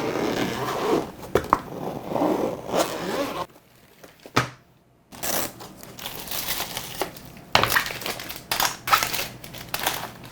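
A fabric zip-up storage case for a mechanical keyboard being unzipped, close rasping zipper runs in several bursts with brief pauses and rustling of the cloth case between them.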